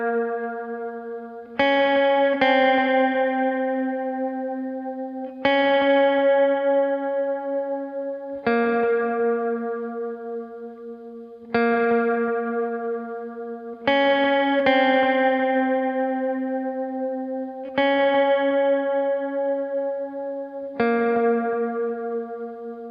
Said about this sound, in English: I'm just using a clean tone with a little bit of reverb and modulation kind of added in there too.